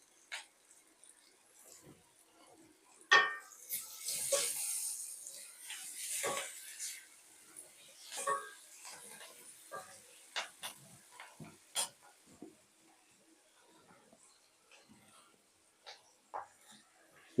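Fenugreek leaves and curry leaves added with turmeric to hot oil in a pan give a soft, steady hiss with bursts of crackling and stirring scrapes, while a person talks and a dog yelps faintly.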